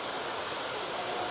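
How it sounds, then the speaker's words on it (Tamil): Steady, dense splashing of water pouring from a fountain in Vigeland Sculpture Park in Frogner Park, Oslo, a continuous broadband rush heard up close with no voices. "அதிலிருந்து தண்ணி கொட்டி கொண்டு இருக்குது."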